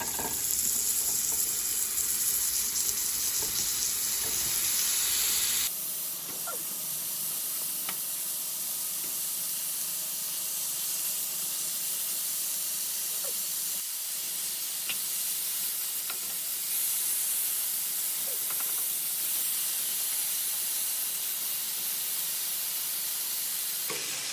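Meat for steak alfredo sears in a frying pan, giving a loud, steady, close sizzle and hiss throughout with occasional faint stirring clicks.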